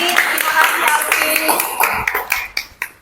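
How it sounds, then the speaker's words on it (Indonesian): Audience clapping for a presenter at a morning training session, a dense patter of handclaps that thins into a few scattered last claps near the end, with voices mixed in. "Oke, tepuk tangan untuk Alfi."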